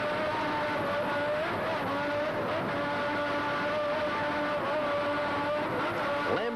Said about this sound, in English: Lamborghini power, just listen to it.